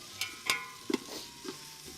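Creamy potato soup stirred in a pot over a campfire, a few soft scrapes and clinks of a utensil against the pot in an uneven rhythm, quiet and close, with faint sizzling underneath.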